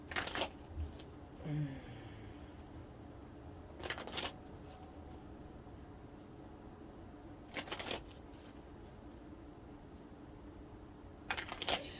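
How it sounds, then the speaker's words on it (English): Tarot cards are shuffled close up in three short, sharp riffling bursts spaced several seconds apart, with quiet room hush and faint handling noise between them. "I usually sit up on the edge of my chair so you can watch me shuffle"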